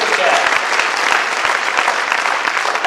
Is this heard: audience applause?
yes